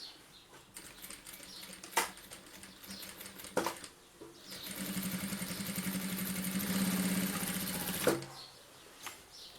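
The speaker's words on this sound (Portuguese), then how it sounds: "Vou costurar bem aqui na bordinha" Sewing machine stitching along the edge of a very thick shoulder bag for mother and baby, running slowly in a steady rapid chatter for about four seconds, with a few sharp clicks before and after.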